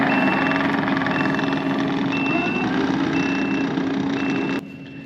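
A skid steer works nearby at a field site, its engine grinding steadily under evenly spaced reversing beeps, and a voice talks over it before the noise cuts abruptly just before the end.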